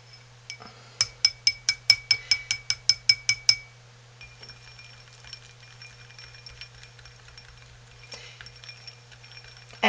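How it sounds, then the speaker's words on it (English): A whisk stirs goat's milk soap mixture in a bowl, giving a fast run of about a dozen bright metallic clinks, then softer scattered scraping and ticking that stays quiet, with no voices. "we're just going to whisk that with our whisk and get it well"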